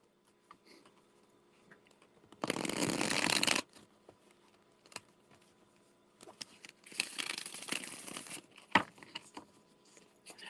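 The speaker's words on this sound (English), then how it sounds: "I'm going to shuffle" Tarot cards are shuffled in two brisk riffling bursts, close and crisp, with light tapping and handling sounds between them.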